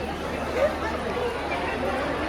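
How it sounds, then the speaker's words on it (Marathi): Busy crowd babble at the Bhimthadi fair (jatra) in Pune among food stalls, a steady, fairly close murmur of many voices with no single speaker standing out. "गर्दी आहे इथे"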